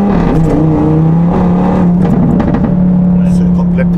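Audi RS3 with a five-cylinder turbo engine, heard as a loud steady engine drone from inside or close by as the car drives off, a little uneven early on and then holding a constant pitch.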